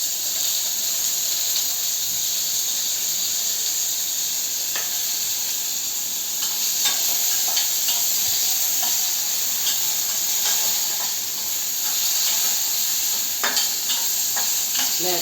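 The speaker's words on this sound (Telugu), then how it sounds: "శుభ్రంగా ఈ కాడల్ని కూడా మగ్గించేసుకోవాలి." Tender nalleru stalks sautéing in a pan, a steady close sizzle and hiss with scattered scraping stir clicks throughout, no voices.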